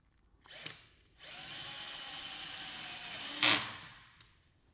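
Power tool driving screws or rivets to fix blades on a pressure relief damper, a short click then a steady whining drill run of about two seconds ending in a louder burst, with no speech.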